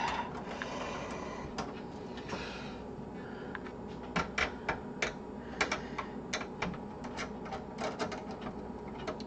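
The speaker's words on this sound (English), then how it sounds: "Watching me unscrew stuff." Socket 7 PC being taken apart with a screwdriver as its ISA and PCI cards are pulled out. Sharp, irregular metallic clicks and taps ring out close by over a steady low hum, with no talking.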